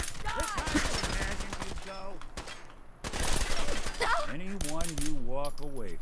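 Rapid gunfire bursts from Fallout 4 combat, crackling volleys that stop briefly and then resume, mixed with in-game character voices.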